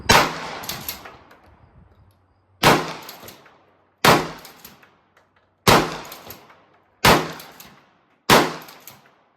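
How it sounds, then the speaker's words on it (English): A Remington 870 Police Magnum 12 gauge pump shotgun with a folding stock fires slugs and buckshot at a range: six loud close blasts spaced about one and a half seconds apart, each with a short ringing decay. "even shooting those slugs and buckshot out of this thing"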